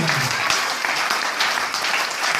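A church congregation claps and applauds steadily throughout, a dense, even wash of many hands at moderate loudness.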